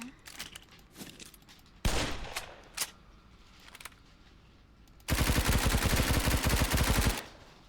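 Gunfire in a shooting video game: scattered single shots and short bursts early on, then a loud sustained rapid-fire machine-gun volley lasting about two seconds, with no talking.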